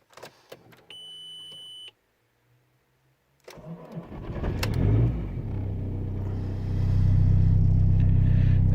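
A VW Passat B5 TDI diesel, unused for two weeks and with an exhaust burst near the manifold, makes a cold start. Dashboard chimes and a brief electric whir come first, then a short crank and a quick catch into a loud, rough, clattery idle.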